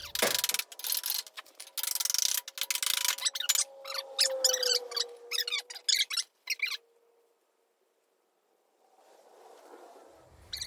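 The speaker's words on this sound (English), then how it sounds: "Now, I'm just going to kind of work this pin out of here." A pin is worked out of a lawn mower with metal tools, giving harsh scraping and squeaking ratchet-like bursts up close, then a long silence and faint noise.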